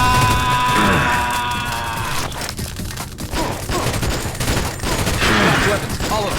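Gunfire in The Nameless Mod, a dense loud fusillade of rapid shots and bursts layered over game music and effects, continuous throughout with brief dips.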